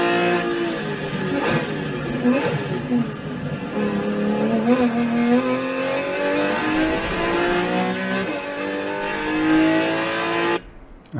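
Race car pulling hard at full throttle on a track, its engine note climbing steadily through the gears in long rising sweeps, close and loud, cutting off abruptly near the end with no talking.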